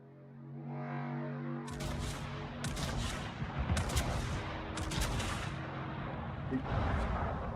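Naval guns firing in World of Warships: repeated heavy cannon blasts in irregular salvos over a rumbling battle background, loud and booming, with a low tonal hum at the start.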